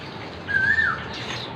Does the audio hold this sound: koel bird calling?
yes